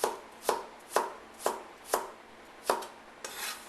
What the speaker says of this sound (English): Slice them at an angle.